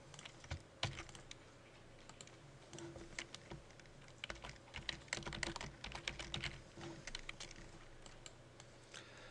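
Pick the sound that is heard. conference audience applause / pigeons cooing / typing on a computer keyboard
typing on a computer keyboard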